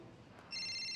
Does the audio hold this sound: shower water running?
no